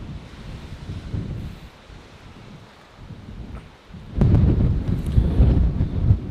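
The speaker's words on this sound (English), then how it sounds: "Hear the wind howling?" Strong wind buffets and roars against the microphone high up near an erupting Kilauea, surging louder in the second half, with no voices.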